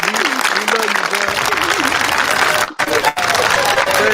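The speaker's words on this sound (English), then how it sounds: "Give Red Grant a round of applause for everybody." Applause rises for a live stream guest, a broad wash of crowd clapping that runs loud and continuous while someone talks excitedly over it, cutting out briefly near the end.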